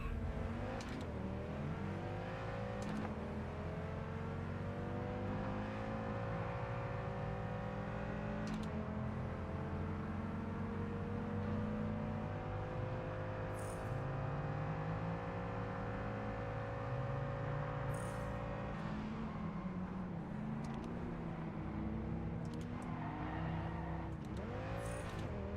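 Race car engine in the driving game Test Drive Unlimited Solar Crown, apparently an Alpine, accelerating with a steady rising drone and pitch drops at each gear shift, continuous and fairly clear.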